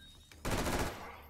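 Rapid video game gunfire erupts suddenly after a quiet lead-in, a loud dense burst of automatic shots lasting under a second before tapering off.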